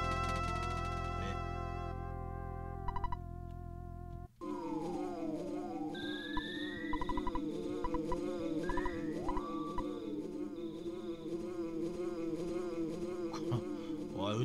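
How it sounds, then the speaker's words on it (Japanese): A housefly buzzes close by indoors, its whining drone rising and falling in pitch as it darts about. Electronic game music plays first and then continues faintly beneath the buzz. "ちょ、ハエ鬱陶しいな、こいつ。"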